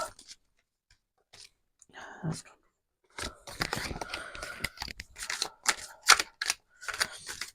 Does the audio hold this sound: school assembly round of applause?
no